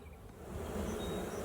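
Honeybees in an opened hive make a dense, continuous buzz that swells slightly over a brief moment, close and steady with no voices.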